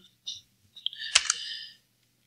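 A few scattered clicks and taps from a computer keyboard with an unlit backlight, close and sparse, ending in a brief cluster of keystrokes while someone is coding in Python.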